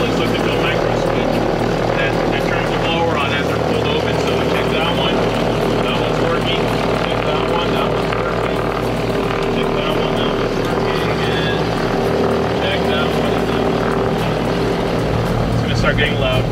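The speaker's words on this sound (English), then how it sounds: "So we activate the blowers" Scoop blowers running aboard a blimp, a loud, steady, close whirring drone that holds for the whole stretch, with indistinct voices underneath.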